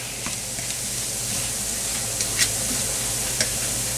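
Pumpkin and shrimp frying in oil in a pan, giving a steady close sizzle throughout with a few faint ticks and pops.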